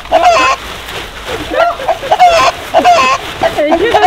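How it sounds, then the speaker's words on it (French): A hen clucks and squawks loudly and repeatedly during an Easter egg hunt, with close, agitated calls in quick bursts throughout. "Elle est très réactive cette poule."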